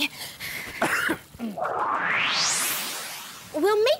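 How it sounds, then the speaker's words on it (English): A cartoon character in a kids' comedy superhero show gives a few rough coughs. A rising whooshing sound effect follows, and a voice briefly sounds at the end. "But I just seem to have this cough."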